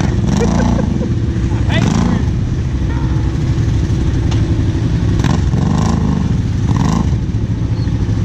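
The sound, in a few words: off-road vehicle engine revving on a muddy trail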